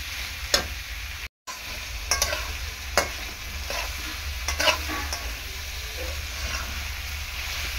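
Snake gourd frying in fish oil gives a steady, close sizzle, broken by a few sharp scrapes and clacks of a spatula stirring the pan, with no one talking.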